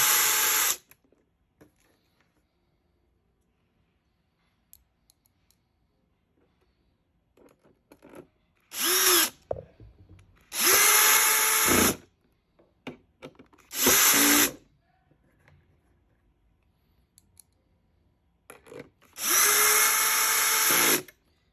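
A power drill whirs in several short bursts, with long quiet pauses between, each burst rising in pitch as the motor spins up, driving screws into a PC case.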